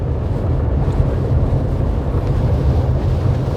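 Strong sea wind at the shore roars continuously and loudly against the microphone, a dense low rumble with waves blended underneath, with no talk.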